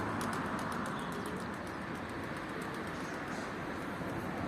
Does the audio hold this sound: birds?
yes